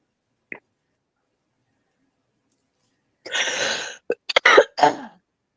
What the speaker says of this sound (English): Well, that was just a cough